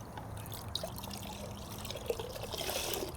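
Griot's Garage rinseless car wash solution drips off a car during a hoseless wash, giving a soft, steady wet trickle with a couple of faint, distinct drip taps.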